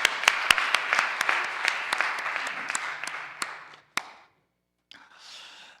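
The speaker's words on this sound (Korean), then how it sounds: "하나님께 영광의 박수를 드리겠습니다." Church congregation applauding together during a morning revival service, a dense burst of many hands clapping for about four seconds, then stopping abruptly, followed by a softer murmuring tail.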